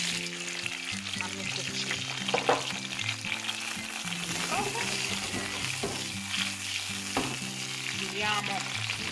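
Oil sizzling and frying steadily in a hot pan as ingredients are cooked for rigatoni with tuna, with some stirring, continuous under background music and a brief spoken word.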